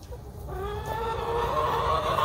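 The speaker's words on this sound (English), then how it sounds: "We got hens on the nest." A hen on the nest makes a drawn-out, rising clucking call nearby, growing louder toward the end over a low background rumble.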